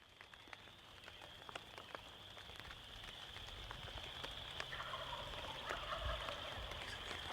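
Wild turkey toms gobble at dawn in a rainy Michigan woods, distant and faint bursts over the steady hiss of rain and a high insect-like drone.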